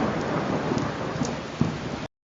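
Heavy, continuous monsoon rain pours down in a dense, steady hiss with thunder mixed in, then cuts off abruptly.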